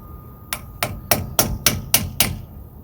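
Seven sharp metallic hammer strikes on a screwdriver during a disc brake job, in a steady rhythm, ringing close and loud against a low background hum.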